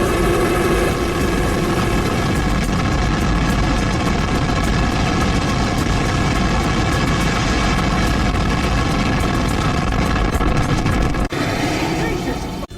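An aircraft lifting off gives a loud, continuous engine roar that fills the entire span, steady and close, and drops away abruptly near the end.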